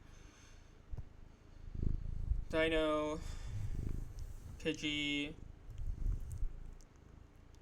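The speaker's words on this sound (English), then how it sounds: "I don't know if you guys can hear my cat rubbing up against my mic" A cat rubs against a microphone, giving low rumbling purrs and muffled brushing noise up close, while a person speaks over it.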